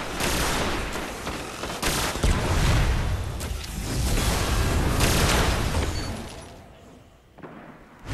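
Gunfire from a Destiny multiplayer match on PS4, played as a loud, dense fusillade of shots and booms that runs nearly without break, with a brief lull near the end.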